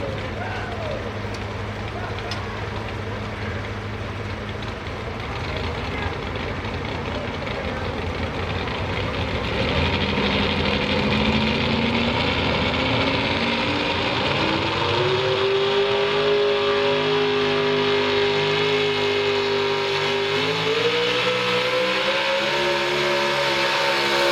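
A Chevrolet pulling truck roars down the track at a Lucas Oil Pro Pulling Circuit truck and tractor pull, its engine loud and sustained, climbing steadily in pitch as it pulls, with an announcer talking over it.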